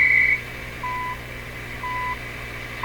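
Steady shortwave radio hiss on an Electrohome Serenader receiver carrying the CHU Canada time signal: a short high pip followed by two longer, lower tones about a second apart.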